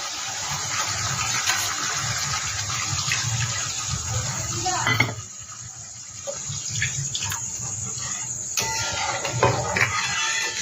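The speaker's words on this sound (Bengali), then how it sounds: "দইয়ের বাটিটা ধুয়ে আমি জল দিয়ে দিচ্ছি।" Water rinsed from a yogurt bowl gushes into a pan of cooked-down spices for egg kofta curry, a steady splashing pour that breaks off midway, then resumes more unevenly.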